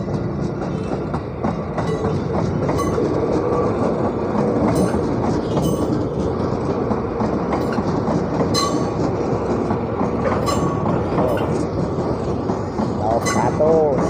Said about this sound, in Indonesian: Nih ada KRL lagi masuk